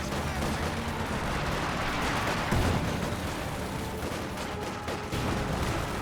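Wartime battle sounds from the strategy game Company of Heroes 2: a continuous roar of gunfire, thudding Panzerfaust and 120mm mortar blasts, and heavy explosions layered densely and loudly, with no pauses.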